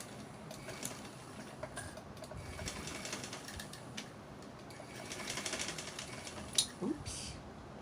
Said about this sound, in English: wind your bobbin as usual.